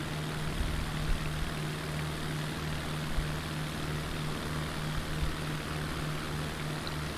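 A small propeller airplane's engine droning steadily at half throttle in a flight simulator game, a continuous hum with a strong low tone, with no voices.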